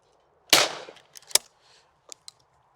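A budget Winchester shotgun fires one loud, sharp report at a clay target, followed by a decaying echo and a few fainter clicks and knocks as the gun is handled afterward.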